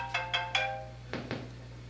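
An electronic phone ring, sent over a laser link, sounds in a quick series of three tones, followed by two duller thumps, over a low steady hum.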